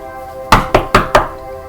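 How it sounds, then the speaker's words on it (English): Four sharp knocks on a door in quick, even succession, loud and close over a faint steady hum, with no voices. "I knock on the door."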